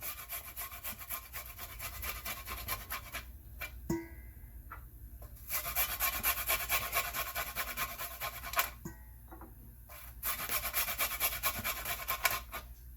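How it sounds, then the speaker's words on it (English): An onion being grated on the coarse side of a metal grater for Caribbean curry goat, a steady scraping rasp in repeated bursts of strokes with short pauses between, close and fairly loud. "I'm going to grate my onion and I'm going to grate it on this big side"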